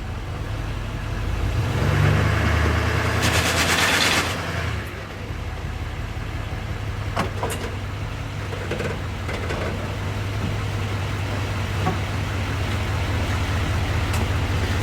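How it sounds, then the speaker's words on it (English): A heavy diesel engine of a Peterbilt dump truck idles and labors steadily while reversing, a constant low rumble with occasional clanks and a brief louder surge early on. "let me put the truck in reverse and just push a little bit"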